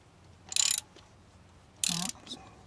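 A ratchet clicks in two short bursts while a spark plug is tightened on a 2005 Kia Rio, close and crisp, with quiet pauses between.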